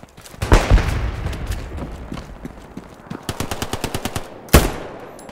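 A machine gun in the Hell Let Loose video game fires in the open. A heavy opening shot is followed by scattered bursts, then a fast rhythmic string of rounds and one last loud crack.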